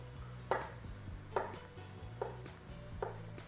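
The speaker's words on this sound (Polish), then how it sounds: "Kroimy w pół, w pół plasterki. I nie za cienko." Knife chopping zucchini into half-moon slices on a board, four distinct, evenly spaced chops close by with a quiet pause between each.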